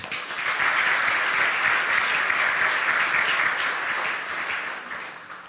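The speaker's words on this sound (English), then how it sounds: "Please give a round of applause for Paula." Sustained applause from an audience at a community festival ambassador coronation, a dense, even wash of clapping that holds steady and then fades slightly toward the end.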